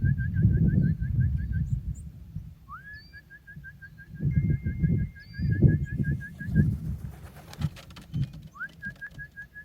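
Young racing pigeons arrive at the loft amid low cooing and soft flutters, while a bright, repeated whistling tone chirps in quick runs above.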